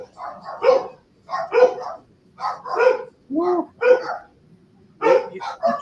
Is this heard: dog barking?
yes